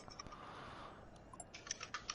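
Key clicks on a computer keyboard, sparse at first and then denser in quick irregular bursts, soft and close over faint background hiss, with no voices.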